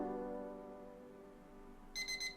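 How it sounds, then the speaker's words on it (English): A timer goes off near the end, a few quick bright repeated beeps, after a steady sustained musical tone that fades gradually. "That's the timer going off, by the way."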